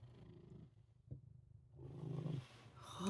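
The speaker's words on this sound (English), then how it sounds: "you're purring so loud" Close, low rumbling purr from a three-legged cat, uneven and breathy, growing slightly louder toward the end.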